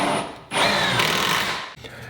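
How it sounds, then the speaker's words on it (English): A power drill drives a screw into white wood framing, with a steady high whine that starts quiet, then runs louder for about a second and a half before cutting off, followed by a faint tail of handling noise. "I'm gonna put my 2 screws toward the center, not toward the end, because it can split easier that way."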